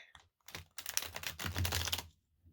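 Rapid riffling shuffle of a slightly stiff new tarot deck, a crisp fluttering burst lasting over a second after a few short taps, close and fairly loud.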